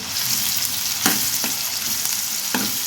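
Chopped onions sizzle steadily in hot oil for an Andhra-style fish pulusu, with a few distinct scraping stirs breaking through the constant frying hiss; no one speaks.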